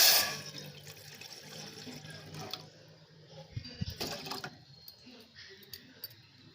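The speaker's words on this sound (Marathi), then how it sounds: "इथे आपण टोपात पाणी घालूया।" Water poured into a cooking pot while making patoli, a turmeric-leaf sweet, gives a steady splashing rush at first that fades to a faint trickle with a few louder splashes near the middle, with no voices.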